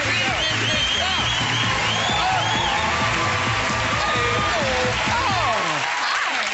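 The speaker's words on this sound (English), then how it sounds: "We're clapping, we're cheering" Studio audience at a television talk show clapping and cheering for an arriving guest, loud dense applause with whoops over music, tapering off near the end as voices come through.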